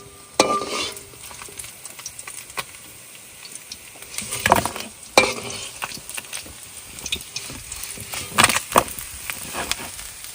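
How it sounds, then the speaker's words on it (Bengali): Fish frying in a pan at a riverside cooking spot in the Sundarbans during the monsoon, with a steady sizzle, louder bursts of spatter and occasional stirring clatter, heard close with no talk. "এবার মাছ ভাজবো।"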